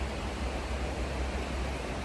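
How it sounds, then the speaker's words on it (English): Steady rushing water echoing off rocks along the Appalachian Trail, a dense, even roar that fills the whole clip without breaks or voices. "I think that sound is the water echoing off of the rocks"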